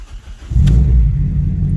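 A rebuilt Toyota Corolla engine cranks and catches about halfway through, then settles into a loud, steady low idle close by, with no voices.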